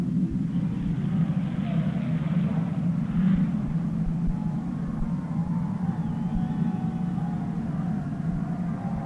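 Vintage speedcar racing at the Sydney Showground in 1965, with car number one pulling away: a steady, loud low engine rumble with a faint whine, continuous throughout at a fairly constant level.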